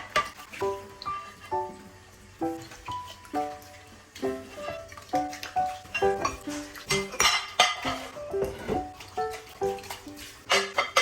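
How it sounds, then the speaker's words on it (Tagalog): Plates and dishes being washed in a home kitchen, with ringing clinks and clatters of crockery and cutlery knocking together in irregular bursts, close and fairly quiet, with no talking. "ako na nga bahala maghugas ng mga plato"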